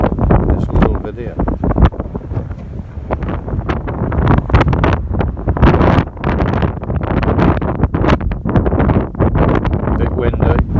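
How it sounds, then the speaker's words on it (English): Strong wind along the Ring of Kerry in Ireland, buffeting the microphone in loud, roaring gusts throughout. "A bit windy as ever"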